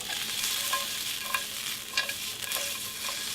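Mushrooms sizzling in a hot pan, a steady close frying hiss with a few soft stirring scrapes and clicks, quiet and with no talking.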